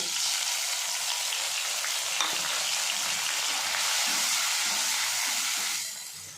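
Spice paste tempered with garam masala frying in a pan, a dense steady hiss and crackle that holds evenly and then eases off near the end.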